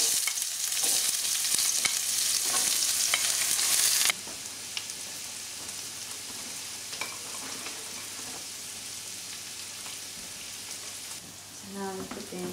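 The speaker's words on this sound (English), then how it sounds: "I start adding the veggies." Vegetables for paella Valenciana fry in hot oil, a loud dense sizzle for the first few seconds that then drops to a softer steady crackle with a few stirring clinks near the end.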